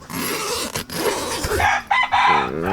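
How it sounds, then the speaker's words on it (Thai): A rooster crows loudly nearby, with a long drawn-out call following earlier clucking and background noise. "โอ้ยเสียงไก่ดังมา"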